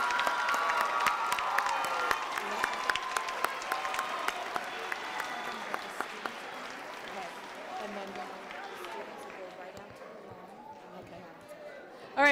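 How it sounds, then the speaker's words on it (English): Applause from the audience and staff at an intermediate school graduation ceremony, a broad crowd of clapping hands that starts full and gradually thins and fades toward the end, heard from a distance in a large room. "the whole staff of Wallace School would like to give you a round of applause this time"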